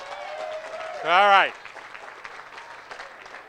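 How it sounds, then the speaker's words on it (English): Wedding guests applaud at a reception, with a loud rising-and-falling whoop cutting through about a second in; the clapping continues as a steady, moderate wash under nearby talk. "So give yourself a round of applause."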